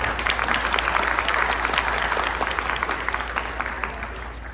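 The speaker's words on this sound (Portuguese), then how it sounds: "Uma salva de palmas para eles, pessoal." An audience at a meeting gives a steady, dense round of applause, many hands clapping continuously and loudly for several seconds without a break.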